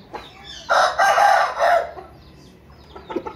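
An Aseel rooster at a Multan poultry market crows loudly and close by, one long strained call with a few short clucks afterward.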